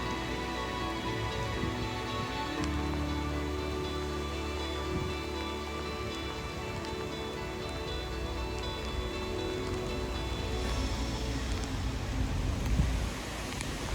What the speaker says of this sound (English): the rain is really coming down now with the storm Babbitt